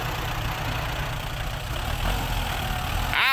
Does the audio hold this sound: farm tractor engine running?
yes